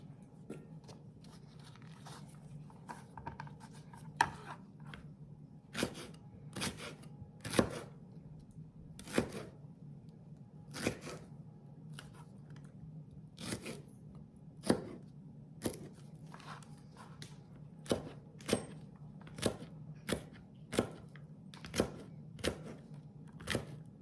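A knife chops green tomatoes for salsa verde on a board, sharp isolated thuds at first, then a steadier, quicker rhythm of cuts toward the end, close and fairly quiet over a low background hum, with no speech.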